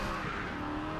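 Hennessey Venom F5 in Project Cars 3 spinning its wheels, a steady loud engine roar with broadband tire squeal and skid noise running throughout the short burst.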